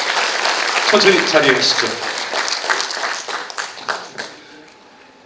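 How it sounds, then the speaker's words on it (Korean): Audience applause at a Korean cancer-survivor talk concert, dense clapping fading over several seconds while voices talk over it. "박수 부탁드립니다"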